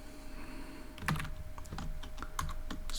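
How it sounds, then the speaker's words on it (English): Keystrokes on a computer keyboard while Python list comprehension code is entered, a run of crisp clicks starting about a second in, close and moderately loud over a steady low hum, with no talking. "I can type here"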